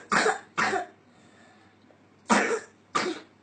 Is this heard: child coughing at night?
yes